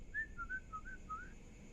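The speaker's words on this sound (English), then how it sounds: "we heard a whistle." A faint wavering whistled tune drifts beneath a bridge in a horror animation, a few rising and falling notes over a low, dull background hum, with nobody talking.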